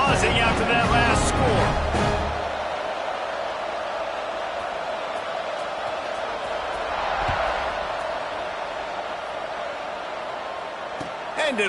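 A football stadium crowd keeps up a steady, broad roar and buzz after a score, loud throughout, with a commentator talking over it for much of the stretch.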